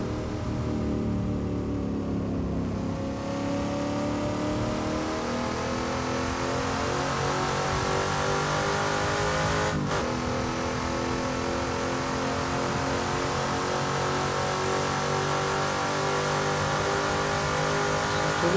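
A race car engine in the Assetto Corsa racing game revs hard and continuously, its pitch climbing and shifting through gears at full throttle, loud and close for the whole stretch with no talking.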